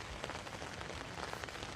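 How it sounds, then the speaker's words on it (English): Steady rain falls on a surface, a faint, even patter of many drops with no pauses and no voices, continuous for a couple of seconds. "It's still raining."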